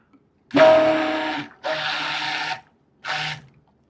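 A clean stick blender runs in three bursts with short pauses between, loud and close, a steady motor whine with nothing else over it, used to mix material for a wall pour.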